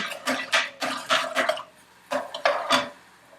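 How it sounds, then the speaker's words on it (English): Wet, squelchy stirring of boiled bananas in a pot, a quick series of sloshing scrapes in two bursts with a brief pause between, close and moderately loud with no talking. "You just want to stir them around in a circular motion."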